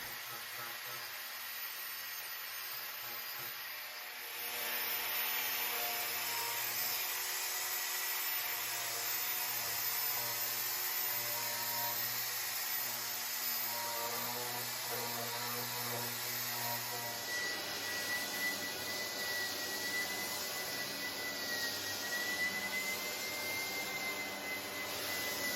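A steady, loud grinding rasp of abrasive cut saw wheels sanding English walnut on a fire-damaged table, running continuously with a slight surge in intensity after the first few seconds.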